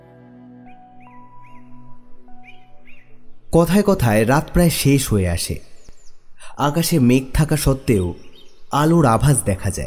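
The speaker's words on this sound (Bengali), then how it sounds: "পাখিদের ডাক শোনা যায়।" Birds chirp and tweet at dawn as a drama sound effect, sparse light calls at first, then continuing faintly beneath a narrator's voice that takes over most of the scene.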